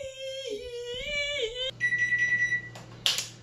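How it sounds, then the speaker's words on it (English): An oven timer beeps in a kitchen during a home cooking session, giving a steady high electronic tone that runs for a couple of seconds after a stretch of wavering, whiny sound, and ends with a short bright chirp. "That sound means the timer is beeping."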